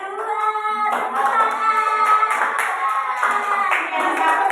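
Students in a classroom clap their hands together in a quick, bright patter, the claps close and steady for a few seconds under some faint background voices.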